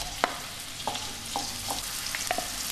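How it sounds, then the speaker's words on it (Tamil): Big onions frying in hot oil in a pan for an egg masala, a steady loud sizzle with a few light spatula taps and scrapes spaced through it. "ஸ்டவ் ஆன் பண்ணி பேனை வச்சு நம்ம எண்ணெய் ஊற்றுறோம். முதல்ல பெரிய வெங்காயத்தை போடுறோம்"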